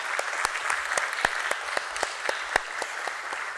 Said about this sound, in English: Can we begin this morning, this auspicious occasion, with a huge round of applause